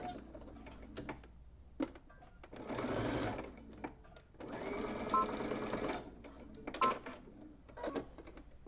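A sewing machine stitches a trouser seam in two sustained bursts of close, steady whirring, separated by brief pauses and light handling clicks.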